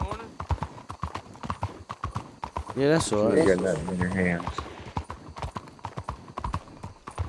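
Horse hooves clip-clopping in Red Dead Redemption 2, a steady rhythmic patter of footfalls running throughout with a brief louder whinny-like burst in the middle, while people talk over it.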